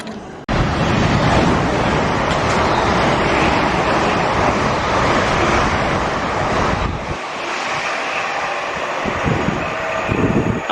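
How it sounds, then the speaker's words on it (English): Freight train rumbling past close by on a North London line, a loud, steady broadband roar lasting about seven seconds before easing off into quieter, gusty outdoor noise. "I had to move when that freight train came through"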